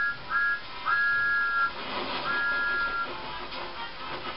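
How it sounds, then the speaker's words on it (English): A high steam locomotive whistle sounds in three long blasts over a steady mechanical rumble, the pitched tones clear and fairly loud. "he blew his whistle loudly"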